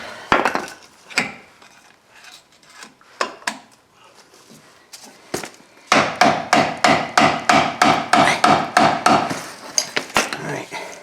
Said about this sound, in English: Normally I wouldn't drive this in here with a hammer